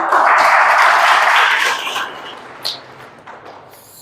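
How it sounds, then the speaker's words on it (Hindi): Audience applause in a church gathering, a dense burst of clapping that fills the first seconds and then thins out and fades to scattered claps. "ताली बजाओ इनके लिए"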